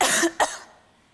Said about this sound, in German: Bei Ihrem Husten scheint es sich eher um einen trockenen Reizhusten zu handeln.